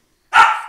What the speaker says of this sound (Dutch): dat is even de hond die aan op de achtergrond aan het spelen is